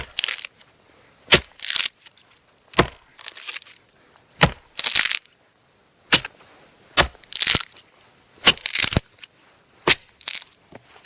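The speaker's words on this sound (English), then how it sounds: "So it's just to chop up some pieces from this tree" Repeated sharp cracks of bone-dry wood from a tree being chopped outdoors in wet weather, about a dozen crunchy splitting blows at an uneven rhythm, close and loud.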